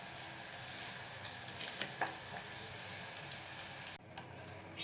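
Ingredients frying together in a pan for a rice and béchamel tajine, a steady close sizzle with faint stirring clinks and no talking.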